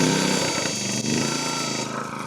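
The small engine of a PowerSmart 6-ton log splitter over-revs at high, strained revs, a steady buzzing drone with a harsh mechanical rasp throughout.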